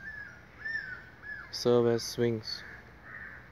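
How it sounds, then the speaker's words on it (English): Crows cawing at Kumarakom bird sanctuary, two loud harsh caws close by against soft background bird calls, with a person talking briefly. "We can hear lots of bird sounds."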